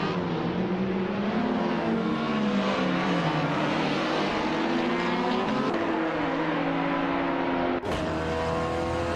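Race cars in the TCA class, small nimble BMWs and Peugeots, roar continuously around the tight Brands Hatch GP circuit in a racing video game, engines droning and shifting pitch with a brief sharp burst near the end.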